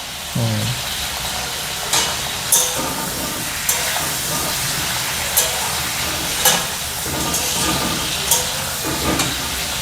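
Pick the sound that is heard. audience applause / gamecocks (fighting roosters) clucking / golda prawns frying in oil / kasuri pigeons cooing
golda prawns frying in oil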